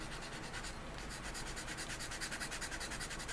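Rhythmic rasping strokes of a file on a plastic part from a Doyusha 1:72 F-14A Tomcat model kit, steady back-and-forth scraping up close for a few seconds with no talking.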